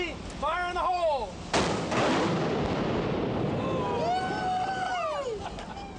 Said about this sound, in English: the ship's cannon was fired just as the Californian sailed under the bridge